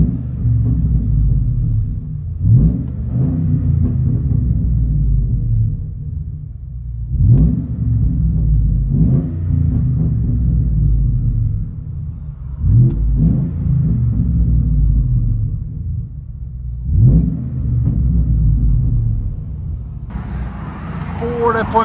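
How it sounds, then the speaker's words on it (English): A 2013 Ford F-150 5.0L V8 with true dual exhaust, X-pipe and Netami NTR race mufflers, heard from inside the cab: a steady deep rumble with repeated rev swells every few seconds, loud and close. "Ford F-150 True Dual with X-Pipe and NTR race mufflers by Netami"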